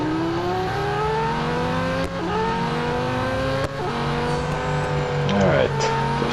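Race cars in Real Racing 3, including a Lamborghini Huracán GT3, roar past in a loud, sustained engine blare with rising and falling pitch and several gear-change dips, with no talking.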